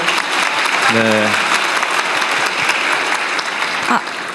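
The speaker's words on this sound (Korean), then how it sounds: "박수 한번 주세요." Dense, loud audience applause at a gathering of about 200 science scholarship students meeting the president, a steady roar of clapping close by with a brief voice cutting through near the start.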